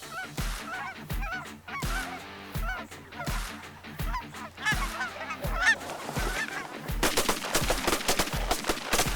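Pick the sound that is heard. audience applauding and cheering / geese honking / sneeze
geese honking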